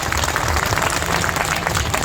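Dense, steady applause from a large comedy show audience at the Bhopal fair, loud and continuous throughout with no pauses.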